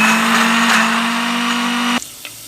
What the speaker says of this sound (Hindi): अब हम प्याज ब्लेंड करेंगे।